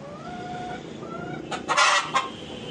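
A brooding hen clucks a few times in short bursts over steady farmyard background noise, with faint bird calls earlier.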